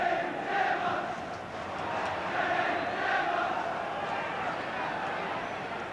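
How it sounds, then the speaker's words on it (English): Football crowd on Liverpool's Kop at a league match against Ipswich, a broad roaring cheer that swells and holds at a distance, steady throughout with no clear talk over it. "But Terry McDermott giving the Kop plenty to cheer about."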